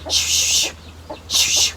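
Chickens give two loud, harsh squawking bursts close by, separated by a short pause with faint clucks, over a low background hum.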